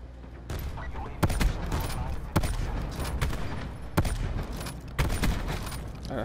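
Sniper rifle shots in a video game, with hit marker sounds: four sharp, loud cracks spaced a second or so apart over a steady rumble of background game noise, with some talking.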